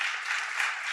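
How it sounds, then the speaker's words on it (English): Brief burst of applause from a summit audience at a housing policy event, dense clapping that is steady, close and loud for about a second. "That deserves a clap."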